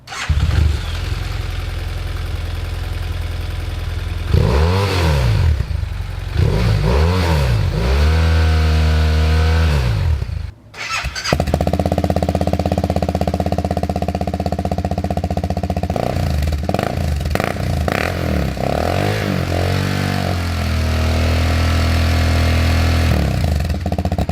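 BMW F800GS and F700GS motorcycles with Akrapovic exhausts are started and idle nearby. Loud, steady engine rumble holds throughout, rising in several rev blips with a short cut partway before the idle resumes.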